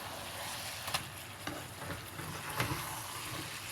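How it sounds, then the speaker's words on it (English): Ground beef browns in a pan for old-fashioned goulash, giving a steady close sizzle with a few sharp scrapes and spatula stirs and no talking. "You want to make sure that ground beef is evenly browned."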